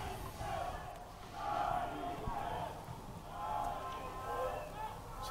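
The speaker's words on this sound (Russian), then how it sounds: "Сыктывкарские болельщики завелись." Syktyvkar fans chanting and cheering in waves at a bandy match between Stroitel and Zorky, a distant rhythmic roar from the stands under a commentator's steady talk.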